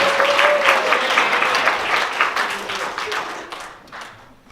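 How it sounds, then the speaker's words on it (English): Audience applause at a live late-night comedy show, a dense wash of many hands clapping close and loud, holding steady before thinning and fading out toward the end. "Clap for yourselves."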